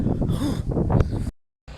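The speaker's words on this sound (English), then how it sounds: "It is so windy" Heavy wind buffets the microphone with a rumbling, gusty roar while a voice speaks underneath, then the sound cuts off abruptly.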